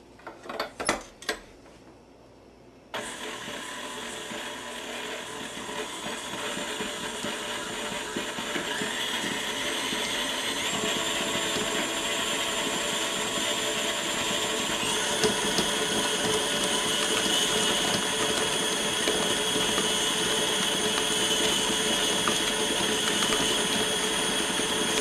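Electric hand mixer creaming unsalted margarine with granulated sugar, a steady close whir starting after a few seconds of faint handling clatter and running on evenly, slightly rising, with no talk.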